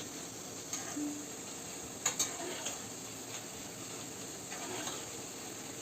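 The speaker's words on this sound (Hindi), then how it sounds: "इसे क्रिस्पी होने तक फ्राई करना है" Besan batter fries in hot oil until crisp, giving a faint, steady sizzle with a few light clicks and taps of a utensil.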